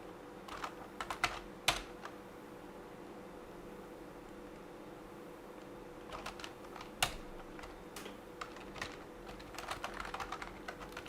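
Someone types on a computer keyboard at a desk in scattered bursts of quick clicking keystrokes against a steady background hum, with short pauses between bursts.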